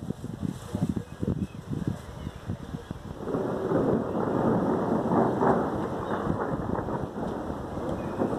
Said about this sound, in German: Der Donner hört hier schon so.